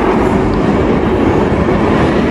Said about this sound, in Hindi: ये देखिए आ गई है हमारी ट्रेन, जो कि बहुत ज़्यादा आवाज़ कर रही है